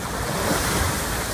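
Ocean waves wash steadily against a rocky shore below a mountain hillside, a loud, continuous roar mixed with wind buffeting the microphone.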